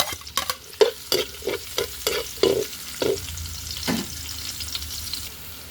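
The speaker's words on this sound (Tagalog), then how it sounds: "Nagisa na po yung bawang at sibuyas." Garlic and onion sauté in a hot pan as a spatula scrapes and stirs in quick, uneven strokes, roughly ten sharp scrapes over a soft background sizzle, close up and with no one talking.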